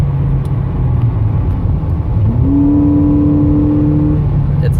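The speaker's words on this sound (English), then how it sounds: "Definitely hear when the throttle is applied and when it's not." A 2004 Toyota Camry fitted with an aftermarket cold air intake, heard from inside as the engine hums steadily and the throttle opens, bringing a rising, sustained drone over constant road rumble.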